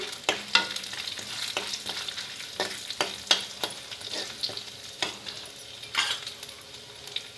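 Tempering spices sizzle in hot oil in a pan for tomato, coriander and mint chutney, a continuous crackling fry broken by repeated scraping clicks of a stirring spoon, close and prominent.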